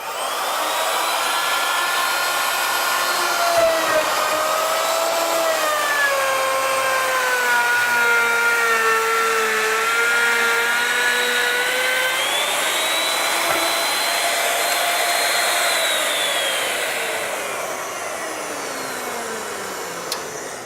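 A plunge router cuts a stopped dado into the middle of a wooden panel, a loud, steady high whine lasting the whole stretch with pitch that sags and rises as the bit loads into the wood, then eases at the end.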